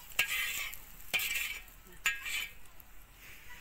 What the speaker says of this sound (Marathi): बघा कांदा भाजा असं भाजून घ्यायचं